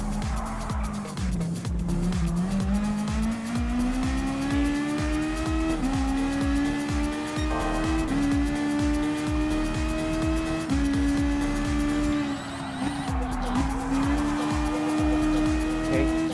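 Toyota FT-1 race car in Gran Turismo Sport, a loud sustained engine drone rising in pitch with gear shifts and brief tire squeal, alone throughout.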